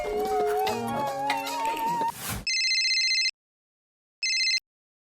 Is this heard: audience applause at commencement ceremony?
no